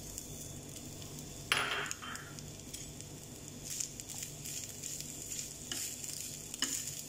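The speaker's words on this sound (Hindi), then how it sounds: "चिकन को इसमें ज़रा फ्राई करना है।" Chicken fries in a teaspoon of oil in a small frying pan, making a soft steady sizzle with occasional scraping stir noises and a few brief louder spatters.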